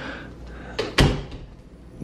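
A pantry door in a Florida villa opens with a short clunk and a louder knock, set against quiet room noise and no talking.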